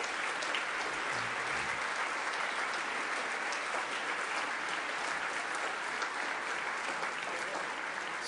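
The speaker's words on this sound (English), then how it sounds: "So please stand up and let's applaud." A standing audience at a medical research conference gives a fairly distant, continuous round of applause for the honorees. The dense clapping stays even throughout with no break.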